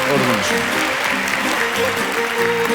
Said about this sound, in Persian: آره تشویق خواهش میکنم